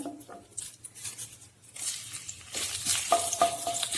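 Green chilli dropped into hot oil in a wok, sizzling and crackling steadily with a brief stir of scraping and pattering, close and moderately loud, with no talking.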